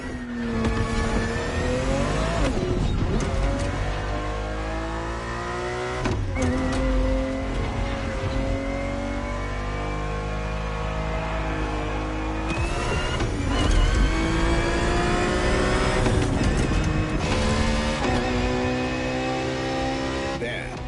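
Ferrari 365 GTB4 racing in a video game, its engine loud and continuous with rising rev sweeps broken by sharp gear-change drops, running for the whole stretch without speech.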